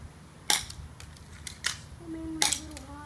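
A Walther PPQ airsoft pistol fires outdoors with no suppressor, giving three sharp, snappy cracks spaced about a second apart, with a brief faint voice between shots.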